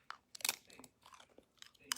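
Crunchy bites and chewing while eating a burrito, several close, sharp crunches spread through the moment with quieter mouth sounds between them, no talking.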